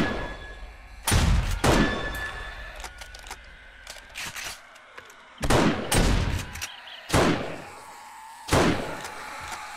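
Rifle fire in 7 Days To Die, War Of The Walkers mod: five loud, sharp shots come at irregular intervals a second or more apart, each with a booming echoing tail, set against a faint ambient game background.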